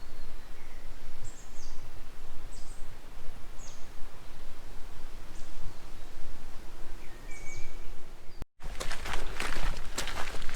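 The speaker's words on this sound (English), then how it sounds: "The sound of the woods is amazing." Woodland ambience with scattered high bird chirps and calls over a soft rustling bed, then louder close footsteps crunching after a short break near the end.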